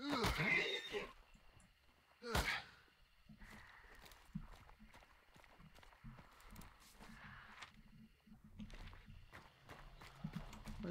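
Horse in Hunt: Showdown, with clip-clop hooves, walking steps and a brief whinny, moderately close, mixed with game noises and occasional talk.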